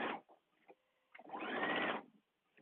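A sewing machine runs basting stitches around a dress yoke, first a brief whir, then a short pause with faint clicks, and finally a longer steady hum that stops abruptly, heard close and alone.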